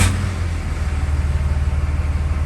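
A high-mileage Dodge Ram truck engine runs with a steady, throbbing low rumble close by after cranking, loud and alone without any talk.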